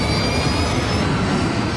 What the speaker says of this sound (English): The crew brings up power to the engines on the wings.